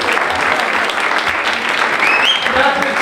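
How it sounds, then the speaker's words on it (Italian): Warm, full applause from the audience at the Candiani during the Premio Targa48 awards evening in Venice, steady and close, with a few voices and a brief whistle-like cry rising through the clapping. "E direi un applauso grande anche al pubblico dei Candiani"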